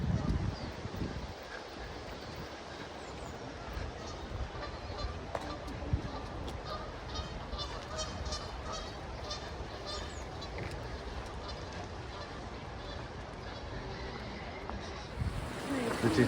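Ducks or geese honking and calling on a river in the Derbyshire Peak District, with water noise throughout and occasional voices nearby.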